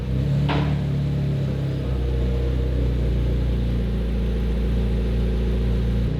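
A McLaren supercar with stock turbos, Senna cams and cooling upgrades drives on new tires in Dubai, its engine a steady close low rumble with faint road noise and a brief higher whine early on.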